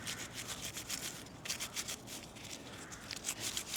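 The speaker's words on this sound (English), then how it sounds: "I'm just going to give them a really good scrub now" Metal door hinges get a brisk, continuous scrubbing with a brush outdoors on a driveway, making faint, rapid rasping strokes in an uneven rhythm with brief pauses.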